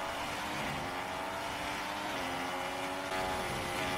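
Race cars in a racing video game roar along in a dense, steady engine wash, several motors blending into one continuous whine without any talk.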